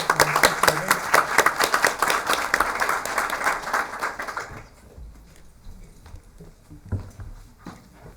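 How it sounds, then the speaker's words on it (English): A room of people applauds state champions at a school committee meeting, dense loud clapping for about four and a half seconds, then fading to a few scattered claps and light murmuring. "How about a round of applause for our state champions?"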